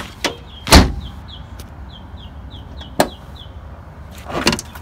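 A 1991 Mazda Miata door with DIY panels, one that springs back open when shut, gives three solid thumps spaced a couple of seconds apart, with a faint, quick series of light squeaks between them.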